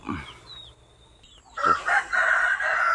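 A rooster crows loudly and close by, its drawn-out call rising after a quieter moment with faint bird chirps.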